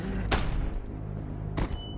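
Two sharp gunshots ring out in The Walking Dead Season Two video game, each a loud broadband crack with a short decay, spaced about a second and a quarter apart over a steady low ambient bed.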